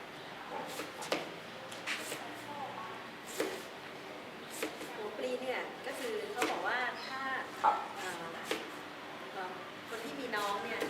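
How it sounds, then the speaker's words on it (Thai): A banana blossom is sliced with a knife for fermenting a plant hormone, giving a string of crisp, close chopping taps and soft squishy cuts scattered irregularly, with a few faint voices in the background. "ในการหมักเนี่ยก็จะหั่นในลักษณะแบบนี้"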